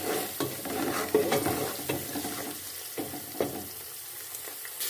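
Spices and salt being stirred in a hot pan for green chilli lemon pulao, with a spoon scraping and clinking in irregular strokes over a constant sizzling, frying hiss.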